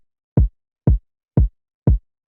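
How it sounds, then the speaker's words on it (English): Fat, punchy kick drum sample with a deep thump, four evenly spaced dry hits at a steady house tempo, close and alone with silence between each beat. "And then after that, we have the kick, which sounds like this."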